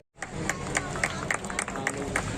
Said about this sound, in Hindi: जोरदार ताली बजाकर उनका स्वागत करें, वंदन करें, अभिनंदन करें।